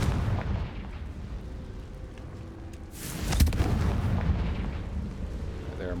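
A fire spell bursts in the video game Hogwarts Legacy, a loud booming blast near the midpoint that rises out of a steady rumble of game ambience and fades back into it.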